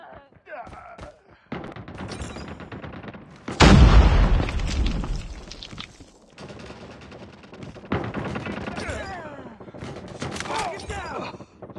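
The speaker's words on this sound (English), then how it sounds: "Grenade out!" A grenade blast in Call of Duty Mobile multiplayer erupts as a loud, deep boom, followed by bursts of gunfire and rumbling, with voices calling out around it.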